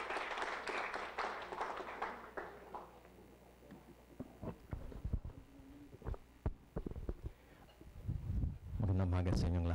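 Audience applause at a forum on University of the Philippines initiatives for Manila Bay, a dense burst of clapping that fades over the first few seconds, followed by scattered thumps and a voice beginning to speak.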